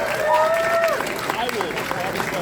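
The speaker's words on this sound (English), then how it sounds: "can you get a round of applause for all of your support?" At a Gnomon graduation ceremony in Los Angeles, a crowd applauds with scattered whoops and whistles, while voices carry over the clapping.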